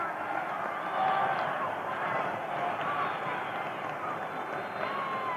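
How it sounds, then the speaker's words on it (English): Basketball fans on their feet in a Kentucky arena cheering and applauding for player Beck as he leaves the game, a steady broad roar of crowd noise from a radio broadcast, continuous and even. "A lot of fans on their feet cheering for Beck as he comes out"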